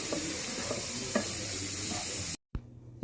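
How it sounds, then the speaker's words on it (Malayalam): A spoon stirs fish roe fried with black pepper in a hot pan, a steady sizzle with soft scraping strokes throughout, cut off abruptly near the end by a brief silence and faint background. "എന്നിട്ട് നമുക്ക് നന്നായിട്ടൊന്ന് മിക്സ് ചെയ്യാം"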